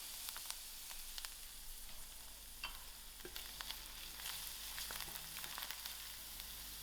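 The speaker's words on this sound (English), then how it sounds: "I'll allow these onions to fry." Onions and garlic fry in a pan for a spicy, sour fish roe chutney. A faint, continuous sizzle carries scattered small pops and crackles, with no one talking.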